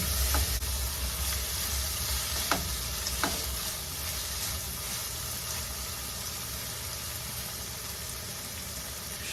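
Boiled peas go into upma frying with mustard seeds and curry leaves, a pan sizzle holding steadily over a low rumble, with a few sharp clinks of stirring in the first few seconds; no speech.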